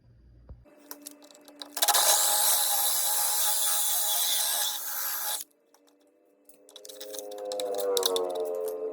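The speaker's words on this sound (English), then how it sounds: "the next thing we're going to do is drill out this side" A hole saw grinds loudly and steadily as it cuts through material for a few seconds, then a pause before the motor whirs back up.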